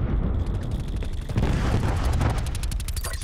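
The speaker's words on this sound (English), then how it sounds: "Cluster grenade." A cluster grenade in Black Ops 4 goes off as a rapid string of overlapping blasts and crackling booms, loud and dense across the whole moment, with no talk over it.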